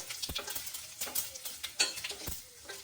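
Chillies and urad dal frying in a pan give a soft, crackling sizzle broken by intermittent light stirring scrapes and small clicks, fairly quiet and close.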